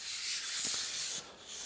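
Fine 400 grit sandpaper rubs lightly over a wooden cutting board, a soft, steady hiss close up that dips briefly near the end of the stroke.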